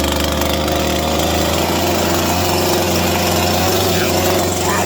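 A chainsaw engine with the choke set runs steadily and loudly up close for the whole stretch, a continuous buzzing drone with no clear pause.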